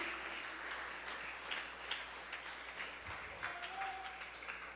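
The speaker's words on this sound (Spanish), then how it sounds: "Dale un aplauso fuerte al Señor." A church congregation applauds during a sermon, a continuous crackle of many hands heard faintly and from a distance, with music tones lingering underneath.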